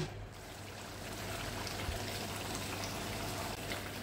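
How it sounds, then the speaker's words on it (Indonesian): Rendang beef with spices reducing in oil, a steady close sizzle with fine crackling pops and spatters running continuously, no talking over it. "Ini udah meletup-letup, udah nyiprat-nyiprat, tandanya minyaknya udah keluar ya"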